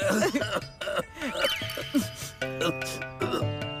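Several rough coughs and throat clearings scattered among emotional talk and background music, close and moderately loud.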